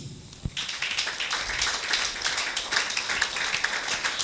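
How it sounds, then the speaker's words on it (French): A church congregation breaks into applause after a brief quiet moment, dense clapping from many hands that stays steady and fairly distant. "Applaudissons pour Jésus."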